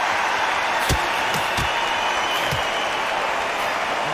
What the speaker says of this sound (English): The crowd here cannot wait. They've been buzzing all day long